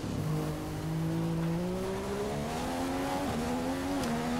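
A Ferrari Formula 1 car races at the Monaco Grand Prix in F1 2015, its high-pitched engine whining and rising through the gears, loud and steady with no one talking.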